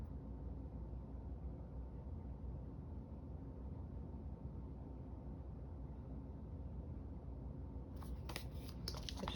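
Card being trimmed with scissors at a craft desk: a few quick, crisp snips come near the end, faint over a quiet background hiss.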